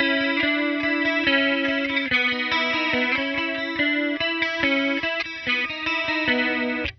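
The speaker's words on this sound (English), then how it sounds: "Set everything to around 10 o'clock. You got a pretty classic chorus sound." A guitar runs through a Walrus Audio Julia analog chorus pedal with all knobs near 10 o'clock, giving a classic shimmering chorus tone as sustained chords and notes ring out steadily and up close.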